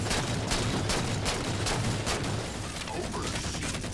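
Gunfire from a sniper rifle in the Halo 4 video game, a series of sharp repeated shots amid dense, continuous battle noise.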